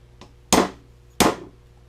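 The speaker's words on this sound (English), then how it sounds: "take a pair of pliers and get it right on the top and then hit the top with a hammer" Two sharp metallic hammer blows on a pair of pliers set against a part on a cold Terramite backhoe engine, spaced about 0.7 seconds apart, loud and close, with a faint lighter tap before them.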